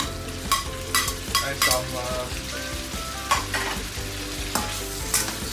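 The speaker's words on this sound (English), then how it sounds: "Fry my veggie" Vegetables stir-fry in a wok for fried egg noodles: loud, continuous sizzling with rhythmic bursts of scraping and tossing about every half second, and a brief spoken phrase.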